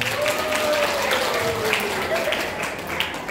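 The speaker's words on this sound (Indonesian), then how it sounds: "Oke, tepuk tangan buat kita semuanya." Students applaud together at a Qur'an training session for junior and senior high school grades, a steady wash of many hands clapping at moderate distance, with a faint voice and tonal sound underneath.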